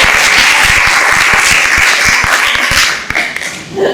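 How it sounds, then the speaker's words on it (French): Applause from an audience at a conference session of pain-medicine experts, dense steady clapping near and loud for about three seconds, then thinning out and fading. "Bravo, je vais applaudir."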